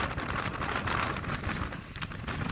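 Strong gusting wind roaring across the exposed knife-edge ridge of Ben Nevis's CMD route in rough weather, a constant broadband buffeting close on the microphone with no voices.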